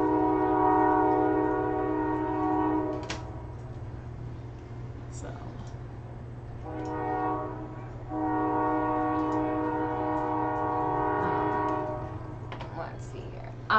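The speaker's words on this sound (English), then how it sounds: "And yes, there's a train passing" A train rumbles past outside a home workspace, with a steady low drone and repeated loud horn blasts swelling and fading over several seconds, heard at a moderate distance.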